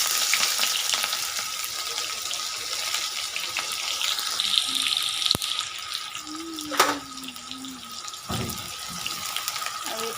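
Chopped onions frying in hot oil: a continuous, moderately loud crackling sizzle with a few clinks and a faint tonal squeal partway through, with no talking.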